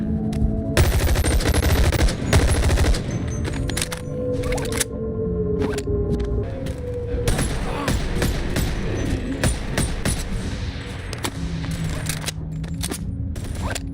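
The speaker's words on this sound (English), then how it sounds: "First, the different weapon sounds." Loud bursts of rapid gunfire and single shots in quick succession from weapons in the VR game Boneworks, with mechanical clicks and clanks of weapons between volleys, dense and close.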